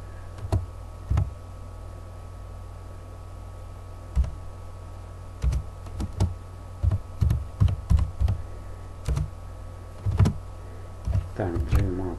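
Keystrokes on a computer keyboard come in scattered bursts and short runs of clicks while a Pascal loop is typed, close but fairly quiet over a faint steady hum, with a voice speaking briefly near the end.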